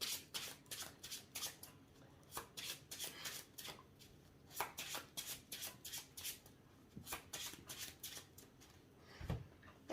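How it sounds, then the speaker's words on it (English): Trading cards shuffled by hand during a Blue-Eyes versus Mellfy card duel, a quick run of crisp riffling bursts and soft rubs, close and steady, with no talking. "Now I'm going to shuffle 3 beast monsters back into my deck"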